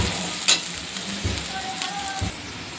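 Chopped bitter gourd hits a pan of golden-brown fried onions, giving a steady moderate sizzle with a few sharper crackles and stirring clatters near the start.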